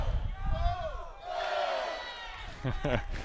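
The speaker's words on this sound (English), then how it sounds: "The competing factions of fans here shouting across at each other, cheering "Go Blue."" Rival fan groups at a college tennis national championship shout and chant across at each other, loud crowd cries rising and falling in bursts with rhythmic chanting near the end.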